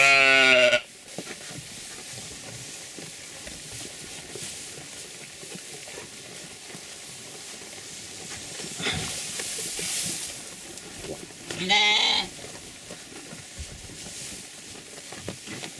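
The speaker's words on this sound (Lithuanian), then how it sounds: "Avys ėda." Sheep on a small Lithuanian sheep farm bleat twice, loud and close, at the start and again near the end. Quiet rustling and grazing fill the stretch between the calls.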